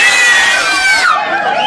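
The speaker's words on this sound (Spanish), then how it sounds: "Que griten las mujeres de nuevo, que griten las mujeres." Women in a crowd at a live concert scream together, a loud, continuous high-pitched wall of shrieks and cheering that dips briefly then carries on.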